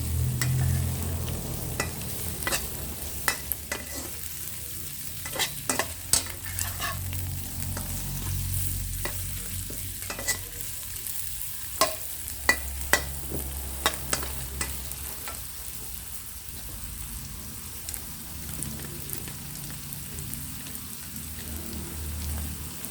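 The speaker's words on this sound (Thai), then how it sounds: "ผัดด้วยไฟกลาง ๆ" Shrimp for basil kaprao stir-fries in a pan over medium heat, giving a steady, moderate sizzle broken by scattered clicks of the utensil against the pan.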